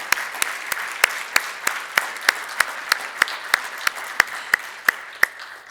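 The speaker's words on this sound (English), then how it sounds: "Please join me in a round of applause for the families and friends." Clapping at an awards ceremony comes as sharp, evenly spaced claps in a steady beat, bright and fairly close, with no talking.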